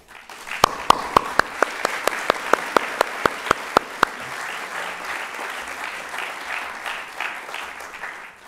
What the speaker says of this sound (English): I would like you to help me express the gratitude with a big applause.